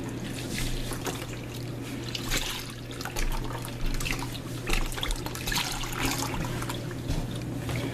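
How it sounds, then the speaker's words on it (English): Beef bouillon being poured into a crock pot, a steady trickling liquid stream with dripping splashes over a low background hum, no voices. "I'm putting in some beef bouillon"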